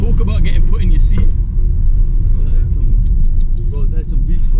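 A 3.2 V6 German car accelerating hard at the Japfest 2024 car show, a loud continuous low engine rumble running the whole time with excited talk over it.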